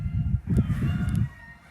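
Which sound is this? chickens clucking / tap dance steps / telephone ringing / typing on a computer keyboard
chickens clucking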